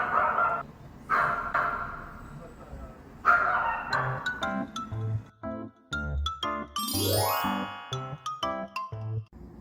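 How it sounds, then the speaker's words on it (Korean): A small dog barks nearby in a home kitchen, sharp yips and barks coming in irregular bursts mixed with tinkling and clattering sounds. "옆에서 짖고 있습니다"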